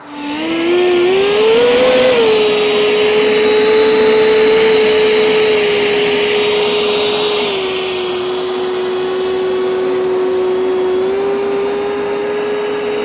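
A JHH A-7 Corsair scale model jet sits on the runway center line before takeoff. Its close, loud turbine whine rises quickly, then settles to a steady drone.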